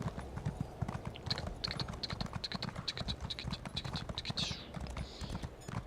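Horse hooves clip-clopping in The Elder Scrolls Online, a steady, quick rhythm of moderate hoofbeats with a few scraping sounds on top.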